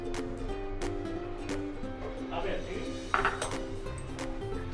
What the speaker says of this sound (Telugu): మూత తీసి చూద్దాము.